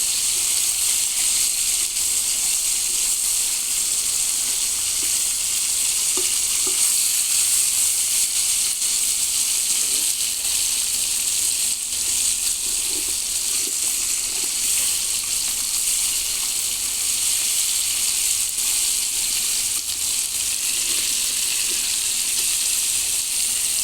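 Hilsa fish fries in hot oil with a loud, unbroken close sizzle and hiss that holds evenly for over twenty seconds, with only faint small pops and no voices.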